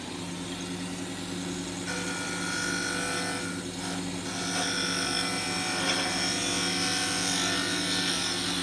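A lathe tool held at a negative rake scrapes a spinning HempWood blank as a finishing pass, giving a steady whirring, slightly raspy drone from the running lathe that holds level throughout and swells a little toward the end, with no talk.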